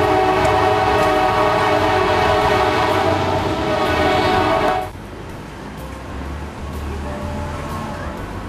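A train passes on a railroad track in Warm Springs, Georgia, sounding a long, loud horn blast for about five seconds that cuts off abruptly, leaving the lower rumble of the rolling cars.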